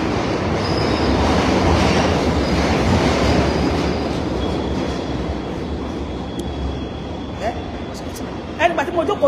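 A passenger train rolls along the rails with a continuous heavy rumble and rattle, wheels squealing faintly, heard from inside, with a few clicks and knocks near the end.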